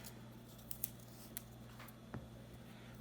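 Scissors cutting small pieces of electrical tape, a few faint, sparse snips and clicks over a low steady hum.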